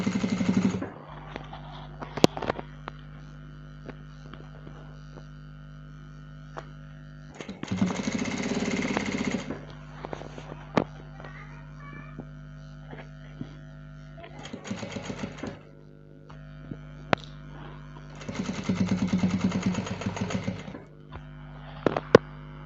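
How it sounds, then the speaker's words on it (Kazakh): Sewing machine stitching ribbon tape onto a curtain panel comes in several bursts of steady whirring, each a few seconds long, separated by quieter pauses with faint clicks, close and moderately loud with no talk. "Лентамызды қойып 1 сантиметрдей қалдырып тігіп шығамыз."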